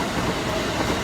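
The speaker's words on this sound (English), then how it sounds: "There's another train." A train passing in Japan, with a steady, close rumble of railcars rolling by for about a second and no voices.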